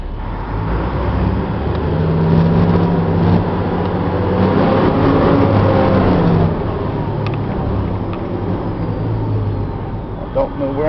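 A 2002 Chevy C8500 military truck's Caterpillar 3126 diesel engine runs and revs with a low, rumbling drone, swelling louder then settling, while a person talks over it.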